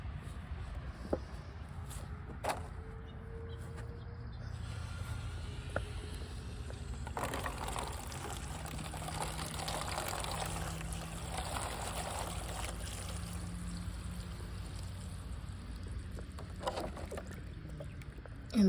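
Water from a shared garden hose splashes and trickles into a seedling tray in a community garden plot, a soft intermittent flow that grows into a steadier gush partway through, with a few light knocks.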